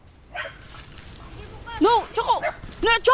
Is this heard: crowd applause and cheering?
no